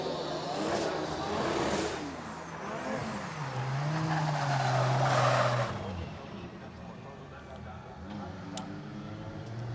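A drift car runs a sight lap at Sportsland Sugo during drift competition qualifying, its engine revving and rising and falling in pitch as it passes. The tires squeal briefly, and commentators talk over the sound throughout.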